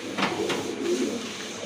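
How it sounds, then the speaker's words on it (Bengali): Pet pigeons offered for sale, low soft cooing up close over steady background noise in a brief stretch with no talk. "আরেক জোড়া কবুতর দেখেন"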